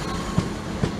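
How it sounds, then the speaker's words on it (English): Class 159 diesel unit 159107 running through platform 1 at Salisbury as an empty stock move, a steady rumble with two sharp wheel clacks over rail joints. "Train just coming through platform number 1 is 159107"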